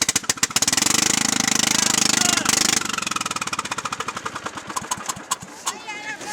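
A derby lawn mower engine cranks and catches, chugging in rapid loud pulses that settle into an uneven idle with sputtering bursts close by.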